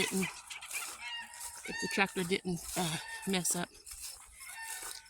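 Rooster crowing and clucking close by, with a voice speaking briefly over the calls.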